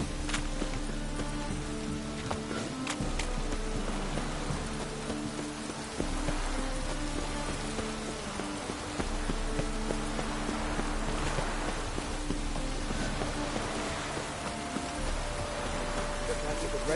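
Rain falls in The Witcher 3, a steady patter on surfaces over a low game soundscape, with faint hoof clip-clops and footsteps beneath.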